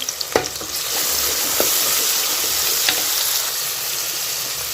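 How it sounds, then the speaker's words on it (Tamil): Onions fry in a hot pan for a chicken podi kuzhambu, with a few sharp stirring clatters at the start and then a steady, close sizzle. No voices. "இப்போ இதில் வெங்காயம் நல்லா வதங்கணும் வெங்காயம் நல்லா வதங்கட்டும்"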